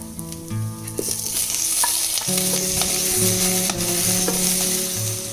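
Tomatoes sizzling in a pan with ginger, garlic and green chilies for paneer butter masala, a steady close frying crackle with stirring scrapes and clinks of a utensil, no voices.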